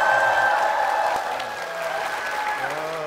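A church audience applauds to welcome the senior pastor of a house-church congregation onto a studio program, a dense, steady wash of clapping that slowly eases off, with a host's voice faintly underneath.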